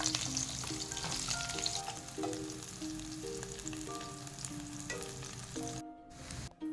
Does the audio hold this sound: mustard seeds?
yes